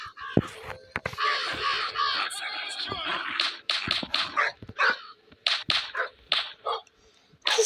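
A dog barks and yelps outdoors in a blizzard, with repeated sharp barks coming faster toward the end over wind noise, and people talking at times.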